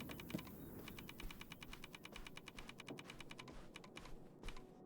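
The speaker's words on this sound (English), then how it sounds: "every time I walk, it makes typewriter sounds" Rapid typewriter-like clacking plays as a character walks in the video game Open Roads, a quick regular run of crisp keystroke clicks over a soft background bed, clear and fairly close.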